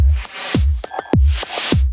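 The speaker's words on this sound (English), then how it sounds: "which is a more muted instance of the Verispeed effect" Drum loop under a subtle Verispeed tape-stop effect from the Pick Up the Pace patch, keeping a steady kick-and-snare groove with slight pitch warping and a loud, dense mix.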